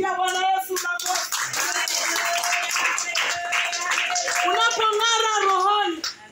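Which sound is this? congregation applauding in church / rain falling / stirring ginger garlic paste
congregation applauding in church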